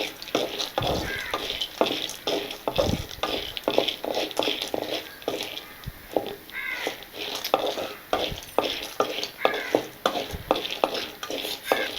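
Dry-roasted peanuts stir-fried without oil in a pan with sautéed ingredients, close scraping spatula strokes and rattling over a light continuous sizzle, steady throughout.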